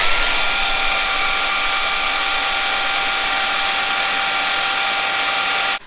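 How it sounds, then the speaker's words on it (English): Power drill boring through steel fin plates for a cranked steel roof beam, one plate used as a template for the next; a loud, steady high-pitched whine runs continuously and stops abruptly at the end. "I can literally just use this first one as a template to drill the second one with now"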